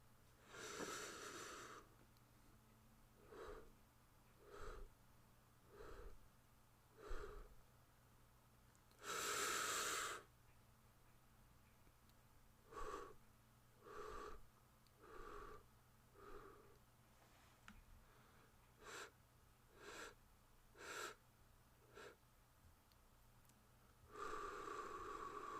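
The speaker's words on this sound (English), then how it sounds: "Breathe after me." Slow, deliberate breaths come close to the mic, a long run of short paced inhales and exhales with a few longer, fuller breaths set apart, all over a faint steady hum with no talking.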